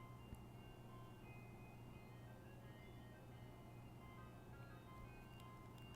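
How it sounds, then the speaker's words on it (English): An ice cream truck plays its jingle, a faint, steady tinkling melody heard from a distance over continuous low traffic rumble, with no voices. "Ice cream truck, you are the bane of my existence."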